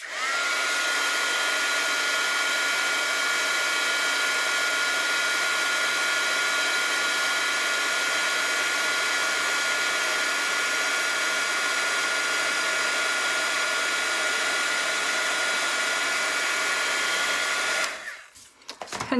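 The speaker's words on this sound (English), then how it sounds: "All right, so we're gonna heat set this real quick" A crafting heat tool whirs steadily while melting embossing powder on a stamped card, a loud, constant airy blower hum for about eighteen seconds before switching off abruptly, with no talking.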